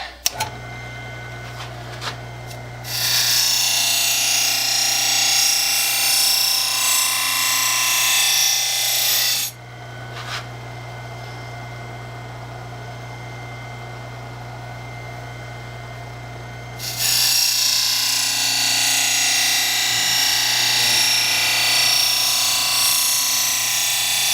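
A knife blade drawn repeatedly across a sharpener, first on the coarse side and then on the fine side, a steady loud scraping that runs in two long sustained passes with a short quieter gap between them.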